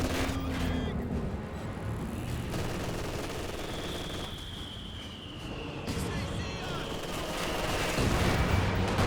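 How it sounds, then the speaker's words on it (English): A Panzerwerfer rocket barrage in Company of Heroes 2 at close range: a dense, continuous rumble of launches and explosions with a rising whistle, while a commentator talks throughout. "close range Panzerwerfer barrage"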